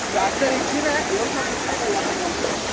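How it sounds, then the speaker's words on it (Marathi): Waterfall flowing over rocks in a stony stream bed, a steady, close rushing hiss that fills the whole clip. "तुम्हाला दाखवतो एकदम भारी असा वॉटरफॉल आहे"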